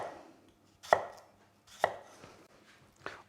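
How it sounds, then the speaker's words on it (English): Knife slicing through an onion on a cutting board, three crisp, close cuts about a second apart, each a sharp crunch followed by a short tap on the board. "depending on the size of the onion, you can do more slices"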